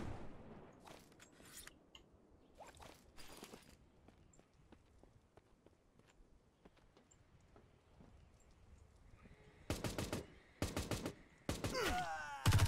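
Gunfire in the first-person shooter Tip Of The Spear: Task Force crackles in scattered faint bursts, then swells into louder, closer rapid volleys near the end.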